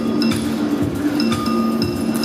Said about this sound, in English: I ask you please stir my cappuccino or milk beverage